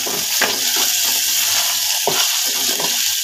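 Onions fry in a pan for egg pulao, giving a steady bright sizzle broken by occasional soft stirring scrapes, close and continuous with no talking.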